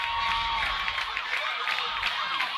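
Crowd at a high school football game between the Batesville Pioneers and Wynne Yellowjackets, a dense, continuous wash of distant cheering and shouting, steady in loudness, with a faint tone near the start.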